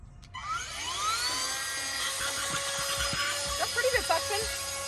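A Bissell Aeroslim handheld vacuum cleaner spins up and runs with a steady high-pitched whine while debris rattles through it, picking up a mess at close range.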